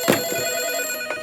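A telephone bell rings loudly and close by in one short burst of bright, sustained tones, with no talking.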